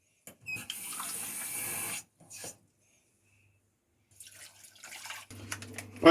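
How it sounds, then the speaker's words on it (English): Five cups of water poured into a soup pot for scallion and celery soup, running in two bursts with a pause between, followed by clattering as the pot is handled. "Let's put some water in there."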